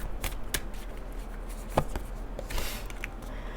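Oracle cards are shuffled by hand, a run of close, crisp riffling flutters and slaps repeating for several seconds with no voice over them.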